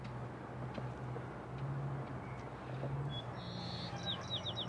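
Short, bright recorded sparrow song phrases played back outdoors ring out near the end, over a steady low hum and background noise.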